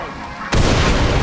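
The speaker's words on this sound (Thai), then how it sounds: "ต้องคว้าระเบิดใส่เอ้า" A grenade explodes in the Far Cry 6 video game, a sudden loud boom that bursts in after a quieter stretch and rumbles on densely to the end.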